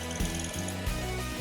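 A drill boring into a wooden sandal makes a steady, loud mechanical hum with rhythmic ratcheting pulses about three times a second, close and continuous, with no voices.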